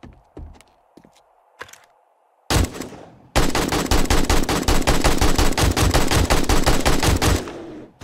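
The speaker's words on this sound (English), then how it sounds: "AK-47 machine gun. Let's go kill ourselves a bear. Technically, it's an automatic rifle." Video-game AK-47 automatic rifle fire: after a few scattered clicks, a short burst and then a long, loud, rapid stream of shots rattle continuously for about four seconds before cutting off.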